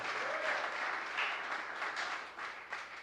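Church congregation applause during a sermon, a continuous rush of clapping that rises and dips slightly, fairly distant and unaccompanied by speech.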